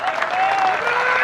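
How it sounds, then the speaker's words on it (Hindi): An audience at an Urdu-Hindi poetry recital bursts into dense, continuous clapping, loud and steady throughout the short burst, with a faint tonal hum running underneath. "एक बार जोरदार तालियां दोस्तों"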